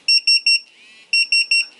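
A TD172 paging system gives two bursts of three sharp, high electronic beeps each, separated by a brief pause, clean and close with no other sound.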